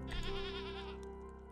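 A goat bleating in the farming video game Stardew Valley, one short wavering bleat, clear and upfront, with no one talking over it.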